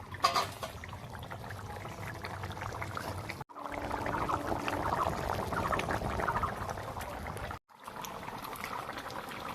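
A pot of fish-head and potato curry bubbles steadily on a village stove, a continuous low boiling churn broken by two short cuts.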